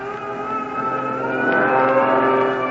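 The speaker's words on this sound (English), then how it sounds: "There goes our first fighter plane." A steady engine drone with a rising tone sweeps by, growing louder toward the end as an aircraft passes overhead.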